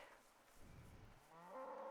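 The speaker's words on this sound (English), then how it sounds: "We have our cows here." Cattle in the Rising World video game give a short, fairly faint low moo, rising at the end, with no other sound around it.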